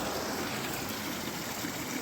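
Clean mountain water runs through a pipe into a lake in Norway, giving a steady, close, even rushing hiss with no breaks for two seconds and no one talking.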